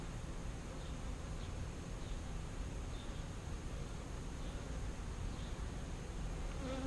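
Honey bees buzz in a dense, steady swarm around an opened hive, a continuous close hum with no talking.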